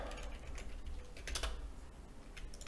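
Quick typing on a computer keyboard while entering a parameter name in Unreal Engine 5, a soft, steady run of close, faint key clicks with no talk.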